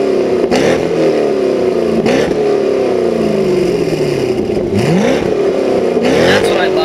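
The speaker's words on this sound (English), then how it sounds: "revving up a 400 horsepower V that sounds as good as this" A 400-horsepower V8 in a car costing under $25K is revved again and again, its loud, close engine note climbing and falling in repeated sweeps over a constant rumbling idle.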